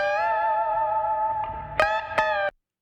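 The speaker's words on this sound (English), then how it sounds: "when I turn this auto hold off at first, you're going to hear when the guitars come in from silence, you really hear that compressor react" Electric guitar chords processed through a Waves Abbey Road RS124 compressor plugin, sustained and effected with distortion-like tone, with two sharp strummed attacks near the end before cutting off abruptly to silence.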